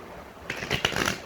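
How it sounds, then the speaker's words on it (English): Thick tarot cards being shuffled by hand, a short riffling burst of papery flutters and slaps that follows a brief quiet moment, close and clear with no talking. "Let me get one more shuffle."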